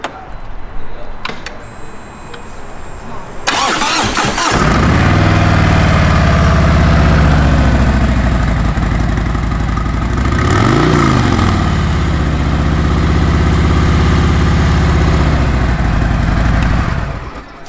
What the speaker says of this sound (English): I'm gonna start this up for you, let you hear what it sounds like.